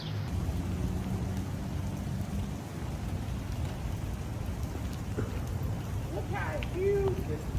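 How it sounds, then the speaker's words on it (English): Heavy rain pours steadily in a Chicago thunderstorm, driving sheets of rain with a low thunderous rumble throughout, and a brief faint voice-like sound near the end. "zero visibility conditions caused by the driving sheets of rain"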